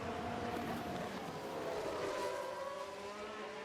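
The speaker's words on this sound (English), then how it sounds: "Sounds like a few cars have crashed." Simulated Formula 1 race cars in F1 Manager 22 roar past steadily, with high engine whines rising and sliding, heard alone and moderately loud.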